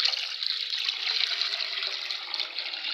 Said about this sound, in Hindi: अब इसमें दोबारा हम 2 लीटर पानी और डाल देंगे।